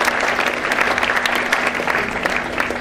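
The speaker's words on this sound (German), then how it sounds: "Ich denke, das ist auch mal ein Applaus wert für diejenigen," Applause at a town fair opening honours the fire brigade and rescue services, loud continuous clapping from a crowd with a faint steady hum underneath.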